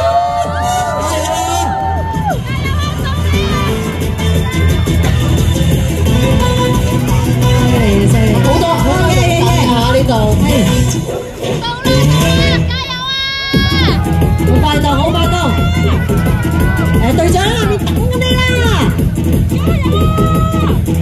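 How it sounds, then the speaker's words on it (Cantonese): A crowd at the Cheung Chau bun scrambling final in 2025 shouts and cheers loudly, with an amplified announcer and whoops rising over sustained festival noise and a brief lull near the middle. "掌聲同歡呼聲！"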